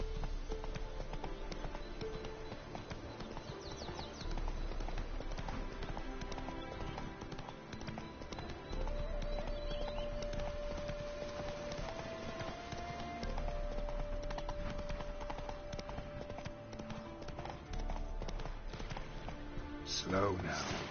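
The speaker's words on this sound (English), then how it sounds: "Spooking my horse." Roach the horse trotting while spooked, a steady clip-clop of hooves kept up throughout, with someone speaking over the hoofbeats.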